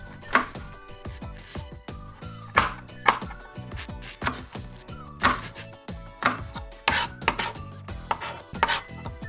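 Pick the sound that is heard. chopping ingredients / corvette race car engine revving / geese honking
chopping ingredients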